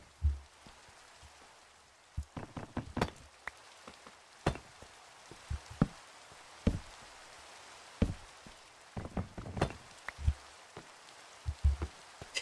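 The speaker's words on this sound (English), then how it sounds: "The rain is annoying." Rain falling in the Minecraft video game, a steady hiss with scattered louder drop-like taps and clicks throughout, heard alone without talk.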